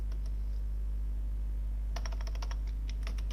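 Keys on a computer keyboard clack in a quick burst of several strokes during the second half, over a steady low electrical hum.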